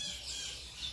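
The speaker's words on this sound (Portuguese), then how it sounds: "aqui onde estou posso ouvir os pássaros cantando" A brief outdoor snatch of bird calls: short, thin squawks set against a hissy background, fairly faint and over within a second.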